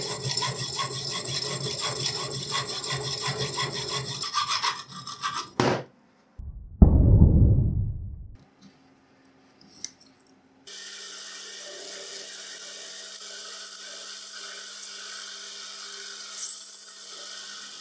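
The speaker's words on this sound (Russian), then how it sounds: "Лишнее приказано отрезать." A hand saw cuts excess wood off a homemade workpiece, a steady rasping back-and-forth stroke that runs for several seconds before the offcut drops with a brief knock, followed by quieter scraping.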